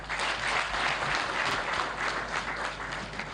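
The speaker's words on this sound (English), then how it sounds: "Another round of applause." An audience at a presidential press conference claps in a loud, sustained round of applause that holds evenly throughout.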